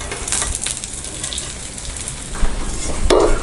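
A bun omelette frying in oil in a pan gives a steady close sizzle, with a louder burst of crackling near the end as more oil goes in around the edges.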